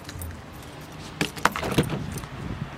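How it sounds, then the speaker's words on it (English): A bunch of keys jangles close by in a few short metallic rattles, against a quiet indoor background. "Okay, so we got the keys and we're heading outside."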